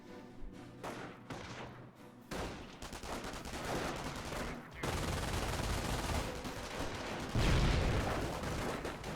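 Rifle fire crackles in rapid, overlapping volleys during a strategy video game battle, with distant booms mixed into a dense, busy soundscape that grows louder toward the end, and no one speaks.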